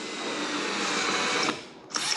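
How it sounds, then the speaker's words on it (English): Power drill boring a pilot hole through a template, a steady high whine that drops briefly as it eases off, then spins up again, close and moderately loud. "I'm going to get the pilot hole drilled"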